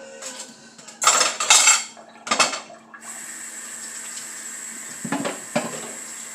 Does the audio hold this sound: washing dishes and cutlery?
yes